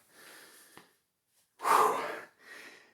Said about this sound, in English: Today, I'm breathing heavy.